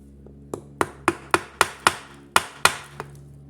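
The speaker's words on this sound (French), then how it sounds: "Prendre le maillet, on va le taper gentiment." Mallet blows tapping the gearbox casing of a Triumph Spitfire Mk3 during a transmission rebuild: about nine sharp knocks in an uneven rhythm, close and fairly loud, with no talking.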